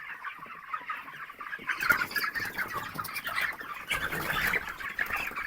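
Chickens in a winter chicken house cluck continuously in a dense flock, overlapping calls close by that swell louder partway through, with faint scratching and movement underneath.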